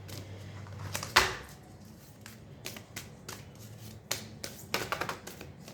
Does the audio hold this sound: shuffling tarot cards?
yes